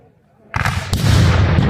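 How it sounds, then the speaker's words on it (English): A cannon fires at a Battle of Olustee Civil War reenactment: a sudden loud, close blast followed moments later by a second heavy boom whose roar lingers to the end. "That was the cannon."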